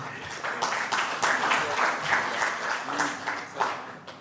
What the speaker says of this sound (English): Clap for Sabrina.